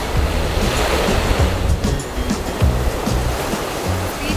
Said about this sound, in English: The wind is breezing on my face.